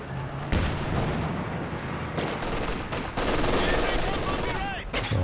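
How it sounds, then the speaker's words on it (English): Machine gun fire from MG34 and Vickers guns rattles through a Company of Heroes 2 match, with sustained bursts and scattered explosions mixed into a dense battle din and a steady run of game sound effects. "And now Ed with triple machine guns"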